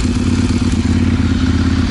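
A Ducati Monster 796 motorcycle engine idles close by with a steady, low, throbbing rumble that pulses slightly unevenly.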